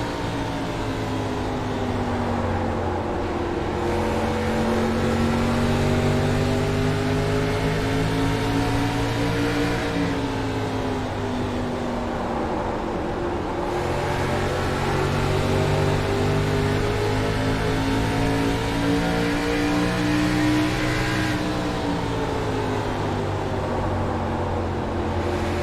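Onboard a race car running in traffic during a race, a loud continuous engine roar rises and falls through repeated gear changes and throttle swells across the lap.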